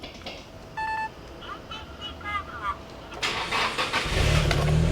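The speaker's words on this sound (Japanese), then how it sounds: "ちょっとエンジンかけますね。" A Nissan 180SX RPS13 sounds a few electronic chimes, then cranks and its engine catches, with a rising idle rumble close by near the end.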